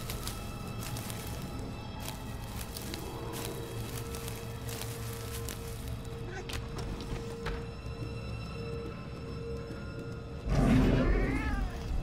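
A cat in the video game Murdered: Soul Suspect lets out a short meow near the end, following a stretch of quiet ambient game sound with faint clicks.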